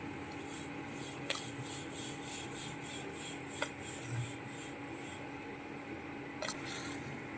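A spoon stirs okra curry gravy after buttermilk and crushed peanut powder go into the pot, giving soft rhythmic wet scraping strokes at a steady pace, close but quiet, with a few sharper clinks of the spoon against the pot.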